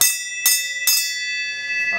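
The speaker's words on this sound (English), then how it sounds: "you want to ring the bell?" A bell rung inside a 1984 GMC truck gives three bright, ringing strikes in quick succession, each sustaining a metallic tone that decays slowly, with a faint voice near the end.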